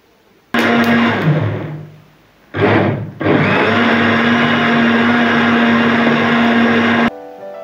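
A kitchen blender whirs loudly and steadily, churning bael fruit pulp with water and mint leaves, briefly dipping as it slows, then surging back and running continuously before cutting off near the end.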